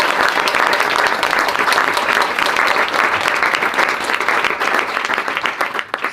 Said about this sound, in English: Let's just have another round of applause.